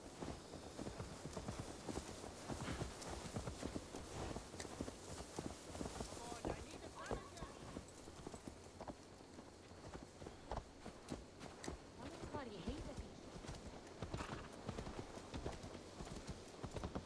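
Horse hooves clip-clop steadily through a scene in the video game Assassin's Creed Valhalla, a continuous trotting rhythm at close range under game music and ambience, with voices speaking at times.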